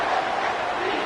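Stadium crowd in a Michigan versus Clemson football video game roars steadily on third down, a dense, loud wash of cheering with no gaps.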